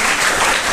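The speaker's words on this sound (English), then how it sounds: "So there is a big round of applause for 5th and 6th standard students." A loud, close burst of applause from a school audience at an elocution competition, clapping for young students, a continuous wash of many hands with no speech over it.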